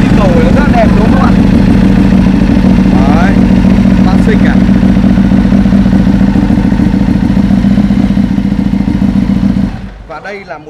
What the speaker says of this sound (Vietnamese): mình sẽ nổ máy lên, nó nổ máy lên